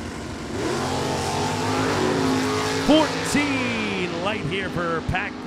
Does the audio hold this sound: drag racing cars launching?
yes